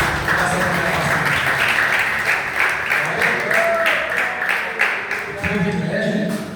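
Congregation applauding for Jesus during a Portuguese-language church service, a steady wash of clapping from many hands with a low murmur of voices and music underneath.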